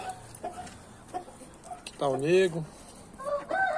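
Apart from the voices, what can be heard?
chickens clucking and rooster crowing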